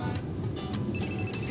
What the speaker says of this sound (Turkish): Senin telefonun çalıyor.